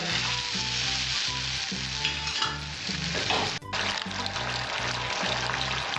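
Water poured into a hot pan of frying bitter gourd and potato sets off loud, steady sizzling, with a sharp splash spike partway through, over a faint rhythmic background beat.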